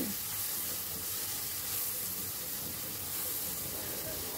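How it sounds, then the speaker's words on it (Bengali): Chopped carrot and capsicum frying in a pan, a steady hissing sizzle with soft stirring, close and continuous, without talk. "ক্যাপসিকামটা দেওয়ার পরে আবারও সব কিছু ভালো করে মিশিয়ে নিচ্ছি"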